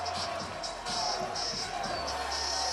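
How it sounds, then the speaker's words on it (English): Spectators at the 2017 Nathan's Hot Dog Eating Contest cheer in a loud, steady roar that fills the whole stretch without a break. "Listen to that crowd."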